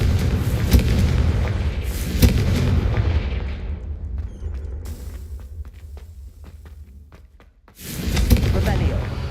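A Confringo blasting spell goes off in the Hogwarts Legacy video game, a loud booming explosion with a rumbling tail that fades, followed by scattered crackles, then another heavy blast.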